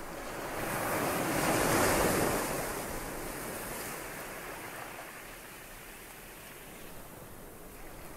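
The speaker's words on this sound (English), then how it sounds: "the sound of the waves" Ocean waves wash ashore in a steady, broad roar that swells, then settles into a softer continuous surf, with some wind in the background.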